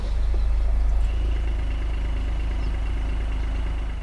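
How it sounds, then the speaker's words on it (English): A Mercedes E450 with a 3-liter turbo inline-six and 48-volt mild hybrid system idles with a low, steady, smooth hum that stays even and moderately quiet throughout. "The ignition button pulses with anticipation, so the smooth start is almost anticlimactic."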